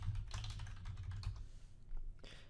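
Someone types on a computer keyboard to sign in to an account, a quick run of close, soft key clicks that pauses briefly and then resumes for a few more taps.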